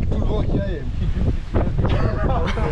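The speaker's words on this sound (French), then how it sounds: "avec tout le vent qu'il y a" Strong wind buffets the microphone in a steady roar along Australia's Great Ocean Road coast, with voices talking through it and water sloshing nearby.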